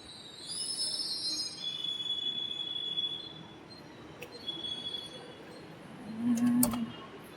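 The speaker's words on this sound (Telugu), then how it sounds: "వచ్చింది ట్రైన్ కింద వెళ్దాం." A Hyderabad metro train pulls into the station with long, high-pitched wheel squeals that come and go, then a brief low screech near the end, heard from the platform with no talking.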